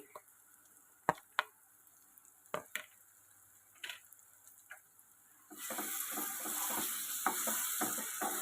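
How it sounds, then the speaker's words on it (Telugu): Ginger garlic paste fries in a pan: a quiet, scattered stretch of scraping taps and clicks from stirring gives way to a steady, brighter sizzle with irregular crackles, heard close. "ఈ పచ్చివాసన పోయేంత వరకు కూడా దీన్ని బాగా వేయించుకోవాలి"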